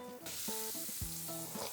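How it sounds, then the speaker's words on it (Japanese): Butter sizzles steadily in a hot pan on a home stove, a continuous close frying hiss with a few low clinks and stirring knocks over it, and no voices. "今度はバターを入れます。"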